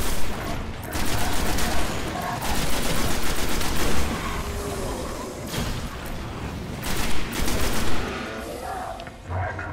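Gunfire in the Destiny video game on Mars, sustained rapid bursts of automatic shots with loud peaks and brief pauses, up close and mostly without talk.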